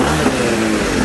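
A troubled motorcycle engine revs steadily at close range for about a second, with a rough, continuous drone and light mechanical clatter; any misfire is not clearly distinct.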